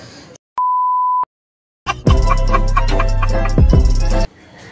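A phone call goes unanswered: a single steady beep of the ringing or busy tone sounds alone, then silence, followed by a loud burst of clattering, thumping noise.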